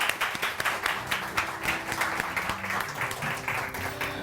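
A studio audience on a Pakistani morning television show claps for a guest, dense rhythmic applause at a steady moderate level throughout, with no talk over it.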